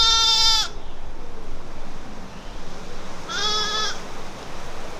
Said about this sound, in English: the only living creatures you can see here are just some sheep